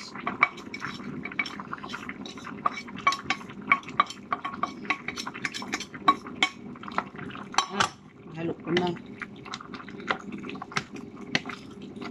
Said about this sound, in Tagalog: Ihalo ko na itong sausage.